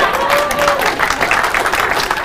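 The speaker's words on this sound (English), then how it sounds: "You can applaud that one, I think." An indoor audience at a product launch event claps steadily, a dense, continuous wash of applause lasting a couple of seconds, with a voice briefly audible underneath.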